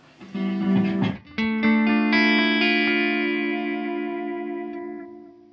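An electric guitar runs through a Seymour Duncan Vapor Trail analog delay with the modulation switched off. A picked note is followed by a sustained chord whose straight, unwavering repeats ring out loud and slowly fade.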